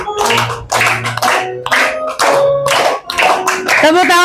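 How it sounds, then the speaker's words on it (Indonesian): A class of schoolchildren (class 2D) claps in rhythm in a classroom during a teaching session, close and loud, with voices chanting or singing along the whole time. "Tepuk tangan buat kelas 2D"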